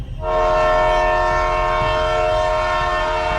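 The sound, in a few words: train horn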